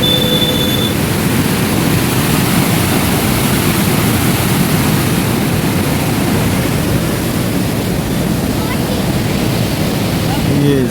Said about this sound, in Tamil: தண்ணி அதிகமாக இருந்ததுனால தண்ணி திறந்து விட்டுக்கிறாங்க டேம்ல